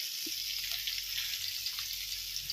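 Fish frying in hot oil, a soft continuous sizzle and crackle at moderate distance with a few faint clinks, no talking.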